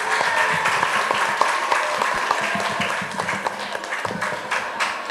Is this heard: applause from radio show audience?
yes